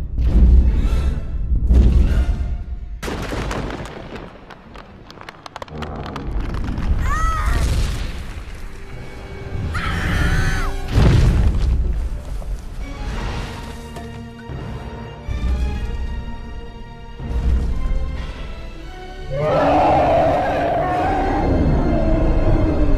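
An angry dinosaur from Ice Age 3 lets out loud shrieks and roars amid booming, crashing movie-scene noise that swells and falls across the whole stretch, with brief voices mixed in.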